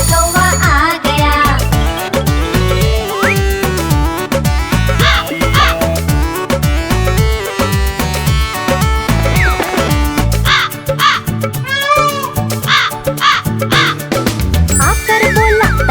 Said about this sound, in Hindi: डॉक्टर मोर को आना था पर काला कौवा आ गया।